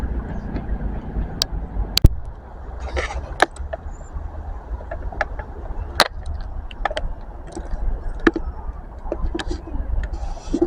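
A train arriving at Totnes station, a low rumbling approach with sharp clanks and squeals from the wheels over tight points, moderately near and repeating irregularly.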